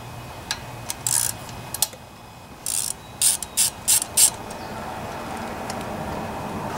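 A T20 Torx bit loosens screws on a Briggs and Stratton OHV Intek engine, producing close, sharp ratchet clicking in a string of short bursts, with brief pauses between them.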